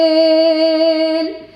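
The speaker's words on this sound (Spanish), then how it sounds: "es la saeta autóctona de Mairena del Alcor" A fragment of a sung saeta from Mairena del Alcor: a single clear, strong sustained vocal note, close and rich in overtones, that fades at the end.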